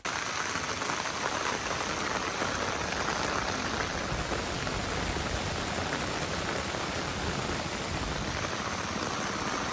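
Heavy rain pours down in a dense, unbroken hiss of drops on surfaces, steady and even throughout with no voices.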